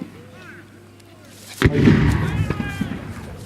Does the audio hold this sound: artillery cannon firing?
yes